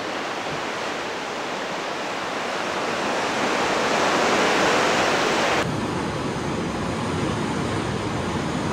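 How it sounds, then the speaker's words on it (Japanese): Early-morning ocean waves at Waikiki beach, Hawaii, give a continuous broad wash of surf that swells slightly and stays steady throughout, with no voices. "最後の海を皆さんにも届けします"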